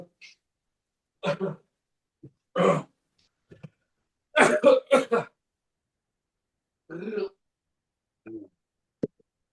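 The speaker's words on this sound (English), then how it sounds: "I'm coughing my head off. It's the pollen around." A man indoors coughing and clearing his throat from pollen, several separate harsh bursts spaced irregularly across the clip, close and dry against silence.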